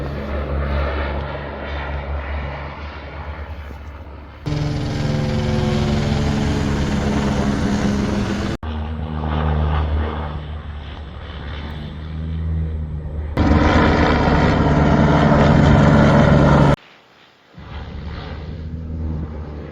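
Loud aircraft engine noise, likely a helicopter, roaring steadily with abrupt shifts in level and a brief near-silent gap toward the end.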